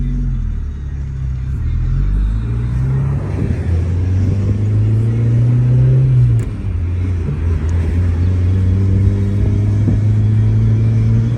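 A 1990 Mazda Miata driving with a steady, close engine rumble that rises and falls slightly as it changes speed, with no voices.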